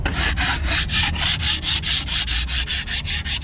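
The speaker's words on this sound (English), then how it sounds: "It didn't come off with the pressure washer, but it did come off when we just took this scraper to it." A hand scraper works in quick, regular strokes, about four each second, rasping barnacle spots off a boat hull up close, with no voices.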